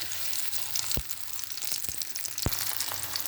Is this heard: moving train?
no